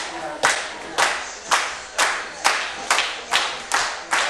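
At an independent pro wrestling iron man match, the crowd claps in unison, giving about nine sharp, evenly spaced claps in a steady rhythm, with no clear cheering.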